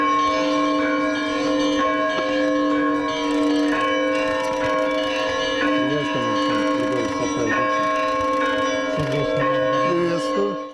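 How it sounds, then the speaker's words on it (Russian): Church bells at an Orthodox monastery in Belarus ring out continuously and loud, several bells layered into a steady sustained peal with tolling strikes, and faint voices beneath. "О прибытии сюда президента возвестил колокольный звон."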